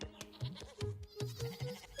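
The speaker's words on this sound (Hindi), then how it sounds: "यार रुद्र, देख तो, साला उस बकरे के कितने मजे हैं यार" Goats bleat repeatedly in short, faint bursts among a herd, several calls overlapping in an uneven rhythm against a low outdoor background.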